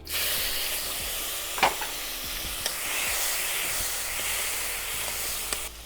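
Chopped tomato dropped into hot oil tempered with black cumin, dried chillies and bay leaves, a continuous close sizzle and hiss with small pops and a few soft knocks of stirring.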